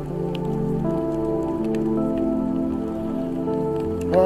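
Rain falling in a park, a steady soft patter on surfaces heard close and continuous, with no voices.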